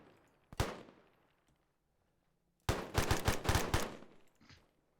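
Gunfire in the military video game Arma 3: a single loud shot, then after a pause a rapid burst of several close, sharp cracks, with a faint echoing tail.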